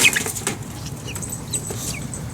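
Birds flap their wings nearby in a few quick fluttering bursts with faint chirps in between, over a quiet background.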